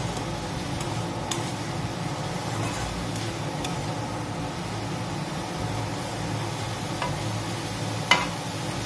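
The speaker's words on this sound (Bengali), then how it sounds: "তো দেখো মা ফ্রাই করছে" A cabbage leaf mixture fries in a pan with a steady, moderately loud sizzling hiss that runs throughout, broken by a few faint scrapes and one sharper clink near the end.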